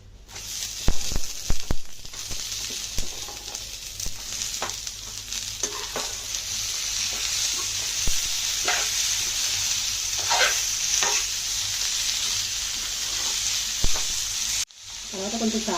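Broad beans (chikkudukaya) sizzle steadily in a hot pan with turmeric, a constant loud frying hiss broken by scraping stirs and clinks of a spoon, running almost the whole way with no talk.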